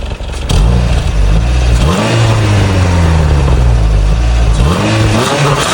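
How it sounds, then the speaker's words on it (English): Naturally aspirated engine of a Renault Twingo 2 revving loudly, pitch sweeping up and down in repeated blips that sound close by, with no voices. "it's a naturally aspirated engine and it does not have any turbochargers, it sounds really good"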